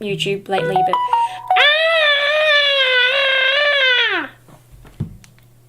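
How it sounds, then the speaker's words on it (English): A mobile phone alarm goes off at 11 pm with a run of short electronic tones, then a sustained warbling tone for a few seconds before it stops, while a person speaks in the room. "that's my phone telling me to go to bed"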